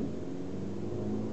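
A 2014 VW Jetta S with a 2.0L engine drives in second gear under paddle-shift control, giving a steady, continuous engine and road drone heard from inside the cabin, with no talking.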